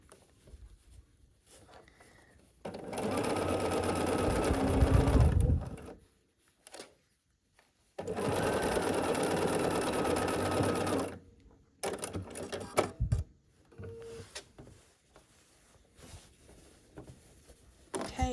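A sewing machine runs along the final seam of a patchwork quilt block in two sustained bursts of steady, close whirring, separated by a short pause and followed by quieter handling clicks.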